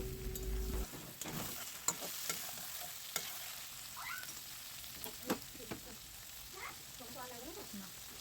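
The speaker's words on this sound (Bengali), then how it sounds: "পেঁয়াজ আর টমেটোটা ভালো করে ভেজে নেব" Chopped onion and tomato fry in a pan for chicken kosha, with a soft sizzle under repeated stirring and scraping clicks, fairly quiet and close.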